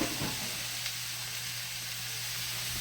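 Chopped vegetables sautéing in fat rendered from ground beef for dirty rice, giving a steady, soft hiss and sizzle close by with no talking.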